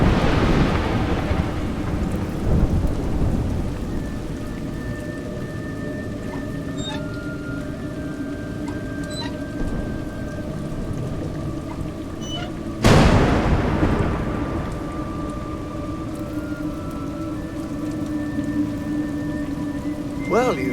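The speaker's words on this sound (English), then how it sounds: "It's raining." Rain and rolling thunder in the video game A Juggler's Tale, a steady broadband wash of rainfall under low droning tones, with a sharp loud thunder crack about two-thirds through that then rumbles away.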